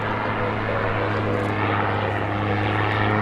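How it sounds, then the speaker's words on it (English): Cessna Super Cargo Master propeller plane passing near an airport at night, a loud steady droning engine with a strong low propeller hum, continuous throughout, with no voices. "And here comes another Cessna Super Cargo Master, I think."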